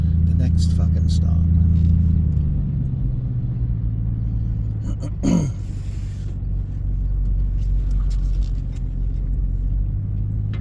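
A former police Ford Crown Victoria cruiser rolls along on a grocery run, its engine a loud steady low rumble that shifts pitch as it slows and keeps droning, with a brief sharp sound midway.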